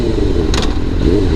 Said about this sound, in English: my bike is pretty loud